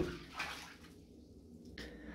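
Water splashing in the video game Pokemon Legends Arceus, soft sloshing and rinsing noises with a brief burst near the end, faint and alone.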